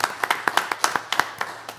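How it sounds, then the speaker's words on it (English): A small group at a school board meeting claps for the teachers. Individual hand claps sound close and distinct, coming in an uneven patter that thins out toward the end. "How about a round of applause for all of our teachers?"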